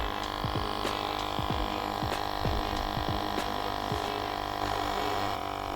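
An Auhma/Rever cordless air compressor inflates a tire, giving a steady close-up motor hum with a fast rhythmic throbbing pulse from the pump running alone.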